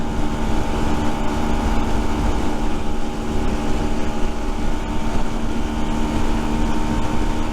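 A steady Rieju Century 125 motorcycle engine drone, just past break-in, runs throughout with a constant low rumble and a faint tonal hum, close and unchanging, with no voices.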